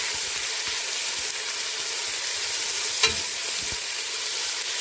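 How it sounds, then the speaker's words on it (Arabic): Onions fry in a pan with a steady, close sizzle while a utensil stirs them, scraping and tapping now and then, with one sharper clack midway. "وهنفضل نقلب فيه كده شويه حلوين"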